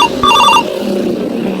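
A telephone rings with a short, loud electronic trill of bright repeated tones that stops after about half a second, followed by a quiet room.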